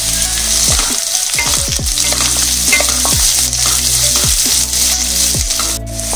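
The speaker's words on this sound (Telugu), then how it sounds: "క్యారెట్, బీన్స్, క్యాప్సికమ్ వేసి కొద్దిసేపు ఫ్రై చేసుకుందాం." Carrot, beans and capsicum fry for egg fried rice, sizzling loudly and continuously in a pan while a utensil scrapes and stirs at irregular intervals.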